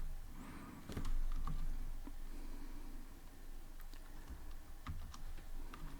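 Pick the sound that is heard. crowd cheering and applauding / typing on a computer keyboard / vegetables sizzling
typing on a computer keyboard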